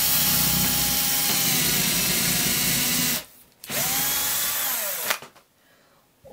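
A power drill bores a straight hole in wood for a fireplace-style wooden candle, its high whine loud and steady, then stopping briefly, restarting with a rising spin-up, and cutting out again near the end.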